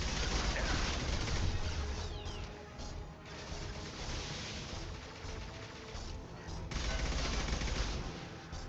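Sustained gunfire in Mass Effect 2, a dense, continuous barrage of rapid shots and crashing impacts filling the whole stretch, loud and close, with brief lulls and a voice faintly under the din.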